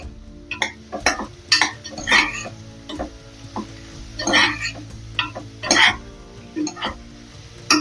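Salt is stirred into a mix in a pot for Swaminarayan khichdi, a spoon scraping and clinking against the pot in repeated short strokes over a faint sizzle, close and clear.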